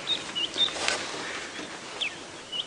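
Birds whistling and singing in morning sunlight on a safari drive, scattered short bright chirps and whistles spread over a soft rustling background, faint to moderate and without talk.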